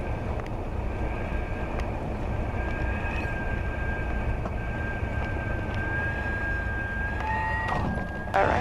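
A small propeller airplane in flight, a Cherokee flying the pattern off runway 19, its engine held at full power after flaps up, giving a steady loud drone with a faint whine throughout.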